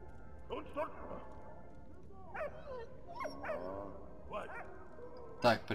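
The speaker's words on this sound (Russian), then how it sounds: "Собаку мы взяли, и теперь собака нам принесет." A dog barks and yips a few times in the World War I game Valiant Hearts, short bursts scattered under ongoing male chatter.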